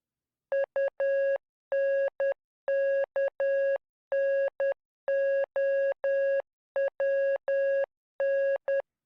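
Morse code beeps from a radio exchange about a hatch and people trapped below, steady mid-pitched electronic tones in grouped short and long pulses with brief gaps, clear and alone with no talk.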